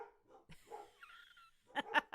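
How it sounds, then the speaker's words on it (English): Indoor dogs making short sharp barks, a few scattered yips early then a loud cluster of three close barks at the end, with quiet gaps between. "I'm so sorry if you guys can hear the dogs."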